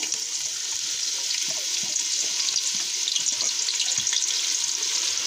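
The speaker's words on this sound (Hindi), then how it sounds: "प्याज को हल्का सा ब्राउन करना है" About 100 grams of finely chopped onion fries in a pan, a steady, close, hissing sizzle that continues evenly throughout with faint crackles and no talk.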